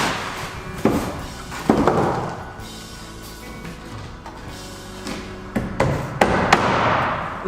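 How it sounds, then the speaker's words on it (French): Nails are hammered into the flat roof of a wooden garden shed, with a handful of sharp, ringing hammer strikes in small irregular groups separated by quieter pauses. "je cloue ici de la même manière en remontant"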